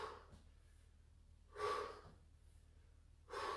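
Two forceful breathy exhalations from a person during a squat workout, each short and fairly close, separated by a quiet pause, with faint room noise underneath.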